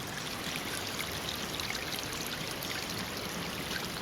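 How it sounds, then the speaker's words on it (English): Rainwater from a hurricane rushes steadily through an earthen swale on a farm, a continuous, even wash of flowing water with no talk. "beautiful rainwater from the ocean"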